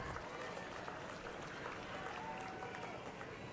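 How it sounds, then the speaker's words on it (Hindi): Dense crowd applause at a political rally, a steady wash of many hands clapping with murmuring and scattered voices mixed in, loud and continuous throughout. "तालियां एक बार जोरदार"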